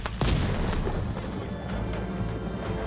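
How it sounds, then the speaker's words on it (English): A short explosion in the video game Ghost of Tsushima, a sharp burst with a low boom that decays into rumbling crackle over a couple of seconds. "That was not a massive explosion."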